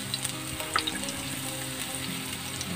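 Garlic dropped into hot olive oil sizzles and spits steadily in a pan for a Filipino stir-fried bihon noodle dish, a close, continuous frying crackle with a few sharper pops.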